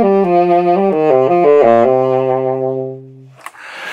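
A tenor saxophone plays a short melodic line with a lighter tone, notes stepping downward to a held low note that fades out, heard alone and close.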